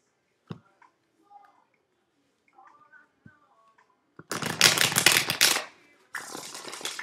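Tarot cards are riffled and shuffled with a crisp rapid fluttering, two bursts after a few faint taps and soft handling sounds.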